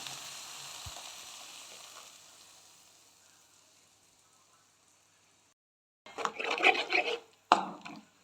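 Black nightshade greens (manathakkali keerai) sauté in a pan for a soup, giving a steady frying sizzle that fades over several seconds, followed by a louder burst of stirring and scraping near the end.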